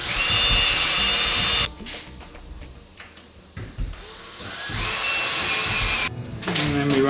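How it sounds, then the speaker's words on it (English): A power drill whines loudly as it bores holes in storm door hinges, stops for a stretch of quieter handling noises, then spins up again near the end. "put your drill bit back in and drill the remaining holes in all the"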